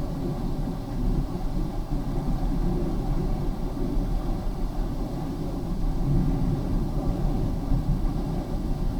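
A 1993 Ford Taurus with a low-power fault runs at full throttle, heard from inside as a steady, heavy low rumble that swells slightly toward the end, with no talking.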